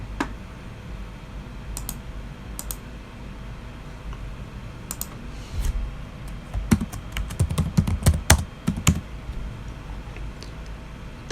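Keys clatter on a computer keyboard in a quiet room, with sparse taps at first and then a quicker flurry of clicks near the end.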